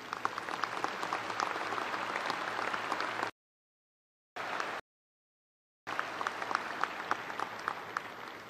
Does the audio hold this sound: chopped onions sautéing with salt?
no